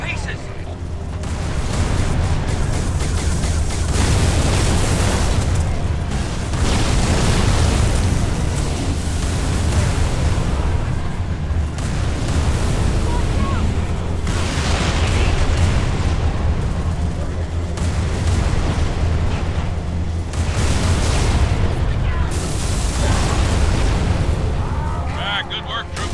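Heavy explosions and gunfire in a Halo 3 ODST battle on Kizingo Boulevard as a Covenant Wraith is blown apart: dense, loud, continuous booming with rolling blasts, while voices shout over the combat.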